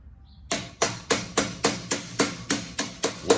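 A rubber mallet strikes an aluminum alloy clutch lever assembly to drive it onto a motorcycle handlebar, about ten steady, evenly spaced dull thuds after a brief quiet moment.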